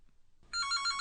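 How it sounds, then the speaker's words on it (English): A telephone in a home studio starts ringing after a short silence, a bright, warbling electronic ring that carries clearly and alone to the end. "Why is the phone ringing in here?"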